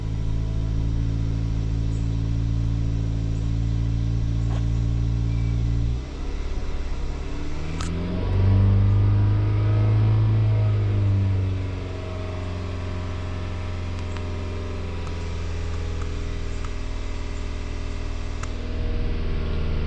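A Jeep Cherokee Trailhawk with a failed alternator at 89k miles runs close by with a steady, deep engine hum, swells into a brief rev partway through, then settles back to a smooth idle.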